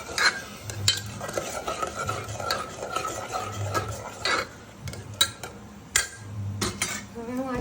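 A spoon stirs turmeric, coriander-cumin powder and salt in a cooking pan: repeated scraping strokes against the metal with occasional clinks and a soft sizzle underneath, close and moderately loud.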